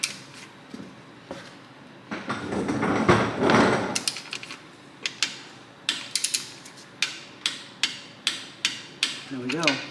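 Torque wrench tightening the sump plug on a Ferrari 360, with a burst of rattling followed by a run of sharp, evenly spaced ratchet clicks, close and clear.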